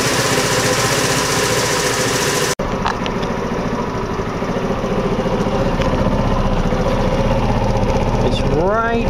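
A scooter engine idles steadily at close range while its carburetor idle screw is being adjusted, a constant droning hum with a brief dropout early on, and someone talks over it throughout.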